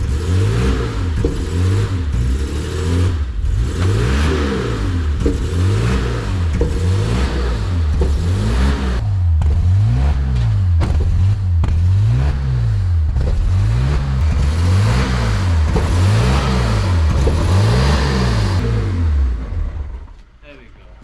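A BMW 850CSi Alpina with a V12 engine idles and creeps onto a trailer, its low engine drone pulsing in a steady, regular rhythm that stays close and loud throughout before cutting off at the end, with voices present alongside.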